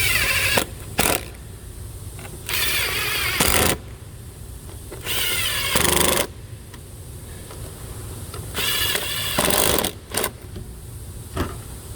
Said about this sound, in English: you take your socket and then you tighten it down